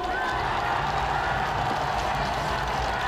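A large crowd at a Seoul Plaza presidential campaign finale rally roars and applauds, a dense continuous wash of cheering and clapping that stays loud and steady without a break.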